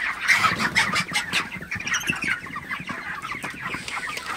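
Broiler chickens in a poultry shed cluck and squawk continuously at close range, several birds overlapping in an uneven chorus with no talk.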